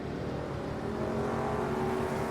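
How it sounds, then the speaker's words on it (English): Race cars pass by in the Automobilista 2 sportscar championship, a steady dense engine roar with whirring tones holding throughout, fairly loud and with no talking. "Oh, listen to those cars going by"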